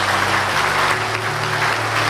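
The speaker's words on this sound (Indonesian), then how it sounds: "Sekali lagi beri tepuk tangan." Audience applause at a success-story talk by a former bus conductor, a steady, dense wash of clapping that runs the whole stretch over a low electrical hum.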